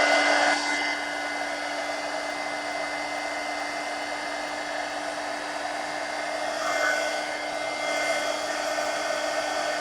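A hair dryer blows steadily on wet paint on a canvas, a continuous close whooshing hum with a fixed tone that holds for the whole stretch, surging slightly near the start and again partway through.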